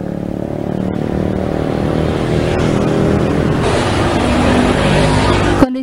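Busy holiday return traffic of cars and motorcycles streams steadily along a road in East Bandung, a continuous loud roar of engines passing close by with no break.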